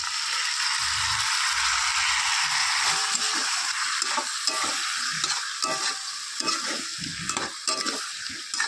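Tomato puree and a little sauce go into a hot frying pan with green chillies and salt for a Bengali potato curry, and they sizzle steadily while a spoon stirs and scrapes in an irregular rhythm close by.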